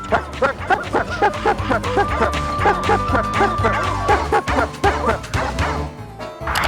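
A dog barks excitedly in a rapid, regular string of close, loud barks, then stops.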